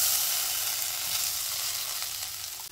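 Grated coconut sizzles steadily in hot ghee in a kadhai over a medium flame, a continuous bright frying hiss that stays fairly even throughout, with no voices.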